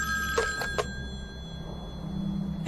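An old-fashioned telephone bell rings in a classic radio drama. Brief trilling bursts come at the start over a steady background hum, a low rumble swells near the end, and no one speaks.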